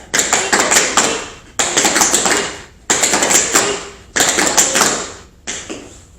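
Tap shoes strike a hard floor in five quick bursts of leap and shuffle steps, each burst a crisp flurry of sharp metallic taps separated by brief pauses, close and loud with no talking.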